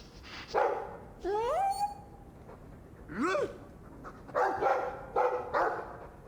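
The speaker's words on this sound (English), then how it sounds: "I like the doggy." A dog in the video game Dragon Age 2 pants and gives short yips and whines in several separate bursts, fairly close, with quiet gaps in between.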